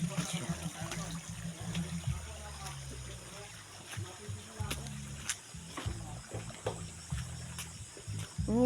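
Rainwater flows and trickles steadily down a foggy mountain trail, a continuous soft babbling rush heard up close with faint voices now and then.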